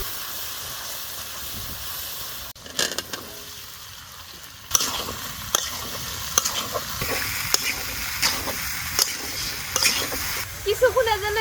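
Fish coated in cumin, garlic, onion and chili paste sizzles and hisses in a hot pan, a spatula stirring and scraping in repeated strokes, steady frying noise close by with no talking.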